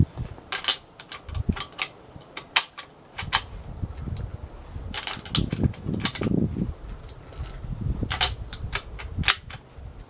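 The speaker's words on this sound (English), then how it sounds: "Let's shoot that steel." Springfield M1903 rifle fired at a steel target outdoors, several sharp loud cracks spaced a few seconds apart, each followed by bolt-action clatter and handling noise.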